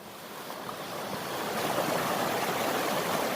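A river swollen after rains rushes past in a steady broadband roar of flowing water, close and continuous, growing slightly louder over a few seconds.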